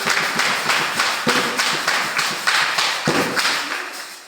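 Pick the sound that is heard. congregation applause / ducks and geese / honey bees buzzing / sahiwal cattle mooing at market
congregation applause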